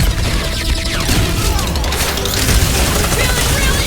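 Rocket's fireworks attack in the Guardians of the Galaxy video game during a battle: a loud, dense barrage of overlapping blasts and crackling bursts that fills the whole stretch, with combat noise and voices mixed in.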